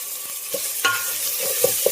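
Chicken curry with tender tamarind leaves sizzles softly in a pan, punctuated by a few quick spoon scrapes and taps against the metal, close and alone.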